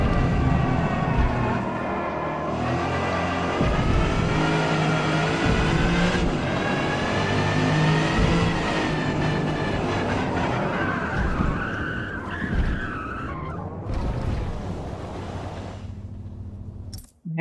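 Race car from the Forza Motorsport video game, its engine droning and revving through shifting pitch for a long stretch, with tyres skidding and squealing near the end, loud and close with no talk.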